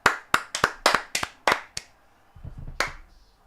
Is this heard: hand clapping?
yes